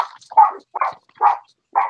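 Four short dog barks spaced evenly across two seconds, fairly close and clear, with silence between them and no talk over them.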